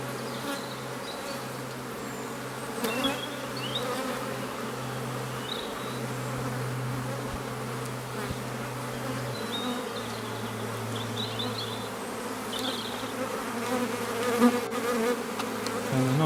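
A dense, continuous hum of many calm honey bees buzzing close by at their hive, steady and droning throughout, with individual insects passing nearer now and then.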